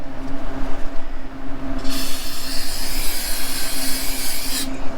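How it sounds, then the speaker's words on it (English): Brake parts cleaner sprays onto a Honda Civic's brake parts in one continuous hiss lasting about three seconds, close and loud, over a low background hum. "A little brake parts cleaner."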